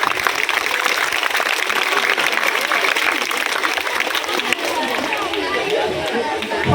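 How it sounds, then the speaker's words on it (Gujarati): Loud, continuous applause from a school crowd welcoming a former principal at an admission festival, a dense steady roar of clapping with chatter mixed in that lasts throughout. "જોરદાર તાળીઓ."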